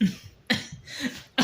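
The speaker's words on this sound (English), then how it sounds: "I did not laugh though. I coughed." A person coughs during a laugh-along challenge, giving three sharp, close bursts spaced about half a second apart, with nothing else between them.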